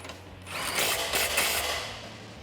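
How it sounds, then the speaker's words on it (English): A power tool drives a socket to tighten the quad shock bolt on a 1979-2004 Mustang rear suspension, one steady whirring burst rising and settling, close and loud. "grab that same socket and tighten down the quad shock bolt"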